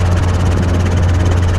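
Robinson R22 helicopter in flight on right downwind during a training lesson, a steady loud engine and rotor drone with strong low-frequency throb running continuously without a break.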